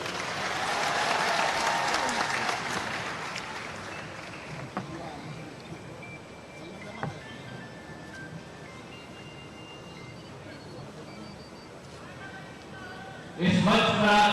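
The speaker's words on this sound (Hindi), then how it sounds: "उनका बहुत प्यार से तालियों से स्वागत करिए" Audience applause at a BJP election campaign rally in Hatpipliya: a dense crowd claps loudly for several seconds, then fades into a murmur under a voice on the loudspeaker, and a fresh burst of clapping rises at the end.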